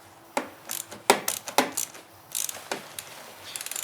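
Ratchet tightening the battery clamp on a Vauxhall Corsa D, a series of short sharp metallic clicks in irregular bursts, close up with no talk.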